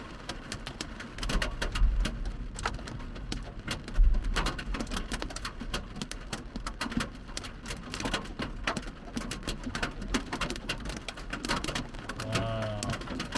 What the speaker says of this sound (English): Ooh, that's hail.